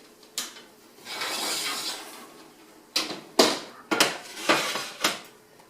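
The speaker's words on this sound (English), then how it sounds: "So I'll go ahead and get the pan back out real quick." A metal baking pan being pulled out and handled in a home kitchen during pretzel making, with several sharp clanks and knocks spread across the moment after a stretch of quiet rustling.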